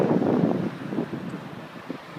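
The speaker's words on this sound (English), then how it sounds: "Hopefully you can hear me over the wind" Gusty wind rumbles against the microphone, stronger at first and then easing to a softer, steady roar, outdoors in front of a castle near a busy road.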